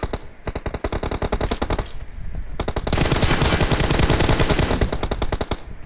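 Rapid automatic gunfire in an online shooter video game, loud sustained bursts of fast repeated shots with a brief pause between volleys, no talk.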